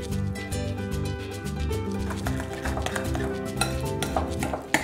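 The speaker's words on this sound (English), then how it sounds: "Now give this a nice stir" A parsley and olive oil mixture being stirred in a bowl, with repeated clinks and scrapes of a utensil on the dish, fairly close, over soft background music.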